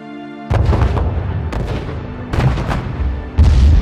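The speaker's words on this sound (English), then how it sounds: "Rockets continue to fire from Gaza, and massive explosions rock Gaza City." Heavy booms of explosions and rocket fire in Gaza City strike in a series of four loud, close blasts, each a sharp broadband hit trailing into rumbling decay, separated by roughly one-second gaps.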